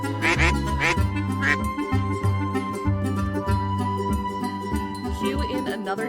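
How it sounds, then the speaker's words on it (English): Several ducks quack loudly in a rapid, overlapping cluster, with bursts of calls over a steady tonal background and a light jingle. "Cue in another duck attack."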